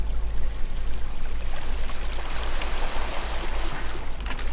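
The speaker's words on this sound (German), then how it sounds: "Nee, das Wasser fließt nämlich zurück, das heißt, er hat unten das Wasser nicht vervollständigt." Flowing water in the block-building game Minetest, a steady broadband wash of streaming and pouring liquid running continuously at even loudness with no voices.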